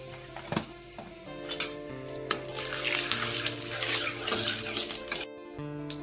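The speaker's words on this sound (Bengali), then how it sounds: "শুকনো লঙ্কা আর মৌরি। ফোড়নগুলো ভালো করে ভেজে নেব।" Dried red chillies, fennel and black cumin tempering frying in hot oil, a steady close hiss and sizzle that swells and holds, with a few light clinks of a spoon against the pan before it cuts off.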